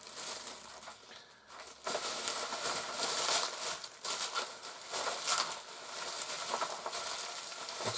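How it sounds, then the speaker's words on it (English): A plastic shop bag nearly 30 years old, printed with a fragile warning, crinkles and rustles continuously in close, bright crackling bursts with no voices. "That is a plastic bag."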